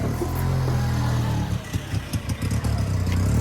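An auto rickshaw engine runs close by at a steady idle, then gives uneven, sputtering pulses before settling back to a steady drone, with no talking.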